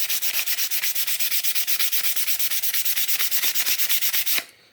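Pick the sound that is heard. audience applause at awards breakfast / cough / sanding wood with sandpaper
sanding wood with sandpaper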